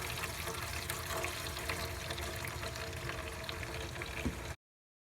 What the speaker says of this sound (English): now I'm gonna go wash them all and sterilize them in his sterilizer